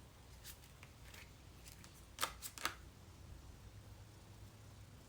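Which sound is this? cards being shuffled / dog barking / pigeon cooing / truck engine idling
cards being shuffled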